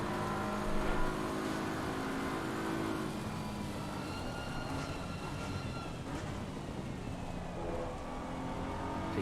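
Race cars lap Paul Ricard in the ACC video game during an eight-hour endurance event, with a continuous engine drone whose pitch rises and falls as the cars accelerate out of corners, moderately loud with no speech.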